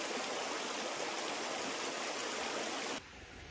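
River rushing beside a camper van parking spot in the Hohe Tauern, a loud steady broadband flow that drops suddenly to a quieter, duller wash near the end.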